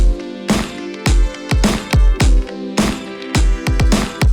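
Punchy drum kit groove with kick, snare and cymbals, compressed, saturated and taped, glued together, with a short roomy reverb tail around each hit.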